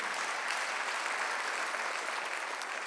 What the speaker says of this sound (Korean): 믿는 사람만 박수하면서 그건 믿어요.